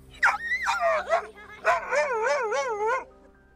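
A dog gives a short run of yelping, whimpering barks, close and loud, in two bursts with a brief pause between them.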